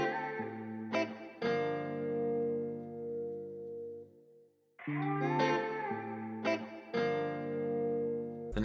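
A vocal stem for a trap-style beat plays with its highs cut by EQ and reverb added, giving a muffled, washed tone with echoing tails that fade between sustained phrases.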